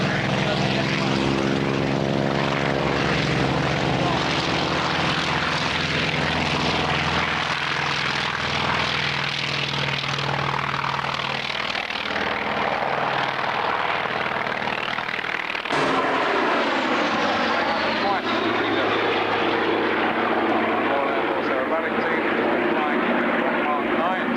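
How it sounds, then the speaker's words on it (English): Propeller warbirds, a Grumman Bearcat and a Hawker Fury, roar overhead at an airshow in a continuous loud engine drone. The pitch shifts as they pass, and a commentator talks over the noise. "Steve Gray and the Bearcat, Ray Hanna, Fury."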